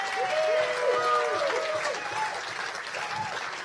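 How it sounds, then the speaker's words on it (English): A stadium audience at a player awards ceremony gives sustained applause for Ralph Hasenhüttl, with clapping mixed with crowd noise and cheers, while some voices carry faintly over it. "Tell me a round of applause for Ralph Hasenhüttl."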